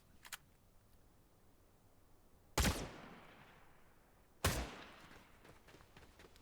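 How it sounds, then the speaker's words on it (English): Headshot hit-confirm effect in the video game Kingdom Come Deliverance II: two sharp, loud impact cracks a couple of seconds apart, each with a short fading tail, after a faint earlier click over quiet background. "When you get that headshot and it goes..."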